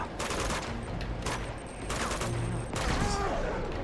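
Rapid bursts of gunfire crackle in a third-person action-adventure shooter, several volleys spread across a few seconds, loud and close, with faint speech beneath.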